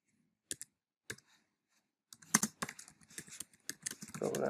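Fingers type code on a computer keyboard, starting with a few isolated clicks and then breaking into a busy run of key presses. The sound is close and clear, with no voices.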